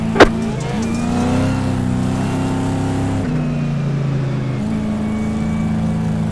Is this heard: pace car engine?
yes